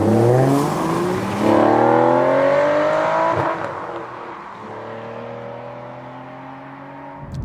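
A Bond car's sonorous engine revs up through rising gear-like sweeps, loud and near, then eases back to a lower steady drone as it settles.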